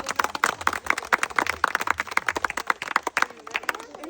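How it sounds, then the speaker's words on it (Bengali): A group claps hands in a quick, steady rhythm of sharp, close claps for several seconds during a children's spin-the-wheel food-and-toy-car game, with no talk over it. "জোরে হাততালি হাততালি হাততালি সবাই"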